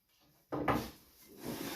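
A wooden bench dog on a saw bench slides and knocks into place with a short scraping thud, followed by a softer rubbing slide, close and clear.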